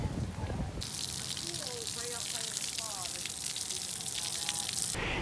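Water gushes steadily from a beach shower, a loud continuous hiss that runs through the whole stretch while someone talks over it.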